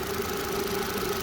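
A hot Renault Twingo GT engine idles with a steady, close mid-pitched hum and faint knocking, continuous and even throughout with no voices.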